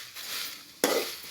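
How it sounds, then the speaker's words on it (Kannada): Byadgi chillies dry-roast in a pan on a low flame, giving a soft, steady rustling crackle, then a sudden sharper scrape as they are stirred, with no voices. "ಹಾಗೆ ನಾವು ಬ್ಯಾಡಗಿ ಮೆಣಸಿನ್ಕಾಯಿ ಹಾಕಿದ್ದೀವಲ್ಲ, ಎಲ್ಲ ಸಣ್ಣ ಉರಿಯಲ್ಲೇ ಹುರಿತಾ ಇದ್ದೀವಿ"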